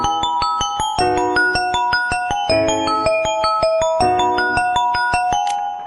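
A Xiaomi phone ringtone plays loud and close, a busy melody of layered chiming notes struck in a steady, quick rhythm that repeats its phrase without any voices.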